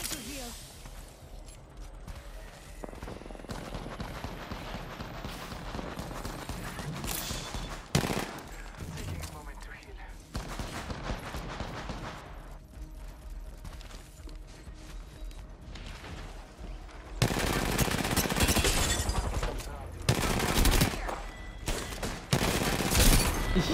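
Gunfire in the battle royale shooter Apex Legends during the Gun Run event mode, sustained bursts of shots and mechanical weapon clatter running throughout, growing louder and denser near the end.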